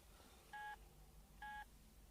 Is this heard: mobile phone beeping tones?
yes